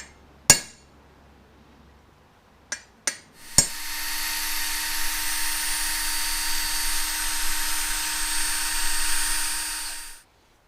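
A drill bit bores steadily into metal on a 1997 Ford Thunderbird Super Coupe, starting after a few sharp taps and then running as a continuous whine with a high grinding edge for about seven seconds before stopping.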